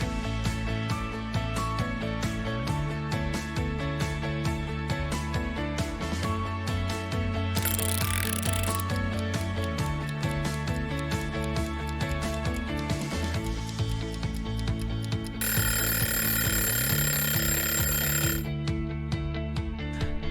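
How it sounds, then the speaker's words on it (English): Cartoon oven timer being wound with a steady ratcheting tick over background music, then ringing with a loud bell about three seconds long near the end. "Next, we pop it in the oven, set the timer, and wait for it to cook."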